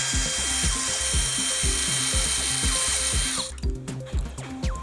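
A power drill fitted with a dull, older bit bores into material with a rhythmic grinding whir that repeats in short pulses, then cuts off near the end, leaving a few clunks.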